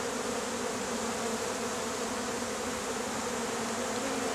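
Honeybees from a colony being removed from inside a house wall, a dense steady buzzing swarm that holds close and loud throughout without any talk.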